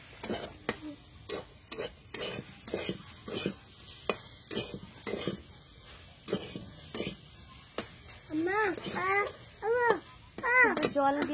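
A spatula scrapes food that is sticking in a wok while it cooks in water, in a home kitchen. The strokes are steady and repeated, and voices talk over the later scrapes.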